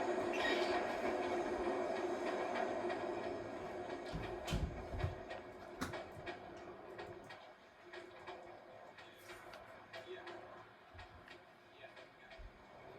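A train in the video game Watch Dogs rumbles and clatters with a steady mechanical drone, followed by scattered clanks and door-like thuds, fairly quiet and mixed with game ambience.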